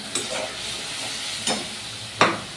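Spice masala and peas being sautéed in oil in a pan for aloo dum, with a constant close sizzle broken by three sharp scraping strokes of the spatula.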